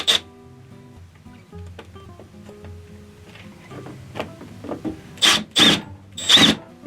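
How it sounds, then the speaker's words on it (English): A drill drives a drywall screw through a few washers into a jig, starting with quiet clicks and brief whirs, then ending in three loud, sharp bursts of drilling. "It's a drywall screw going through a few washers, and I'll just set it right there"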